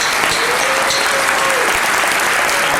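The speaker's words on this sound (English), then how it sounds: "Could you please give them a huge round of applause?" A crowd claps steadily in sustained applause, a dense continuous patter filling the space, with a faint voice briefly audible underneath.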